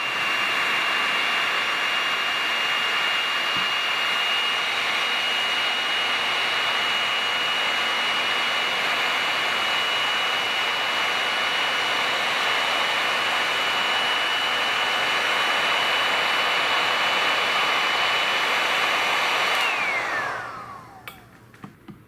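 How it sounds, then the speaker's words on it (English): A heat gun shrinking heat-shrink tubing around a battery connector gives a steady, loud blowing roar that holds evenly for about twenty seconds before cutting off abruptly near the end. "I use a heat gun to shrink it."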